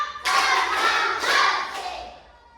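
A school class claps hands together in a few rhythmic bursts, fairly loud and close, with a short pause between patterns.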